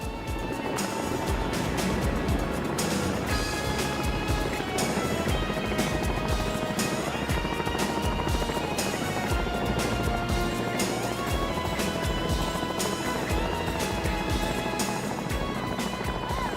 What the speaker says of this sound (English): the Labrador comes back and hoists the stoke litter on board the helicopter